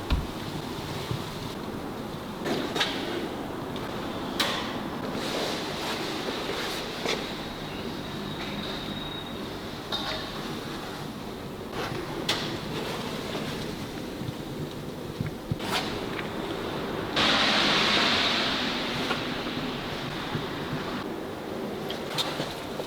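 An air blower roars in long, wind-like bursts as it forces trapped water from gaps and crevices inside a Range Rover SVR, with short sharp blasts and one louder, hissier stretch near the end.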